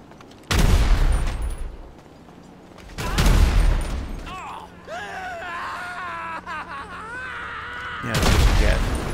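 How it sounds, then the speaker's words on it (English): Bursts of rapid submachine gun fire in GTA 5 crack out in three loud volleys, separated by gaps where a character groans and whimpers in pain between the shots. "It's like a submachine gun or something."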